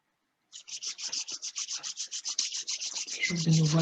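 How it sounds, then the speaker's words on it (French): Hands rub briskly against both sides of the outer ear in a fast, even run of about twenty close, soft scratchy strokes, ending as a low hum comes in. "on se frotte de part et d'autre du pavillon"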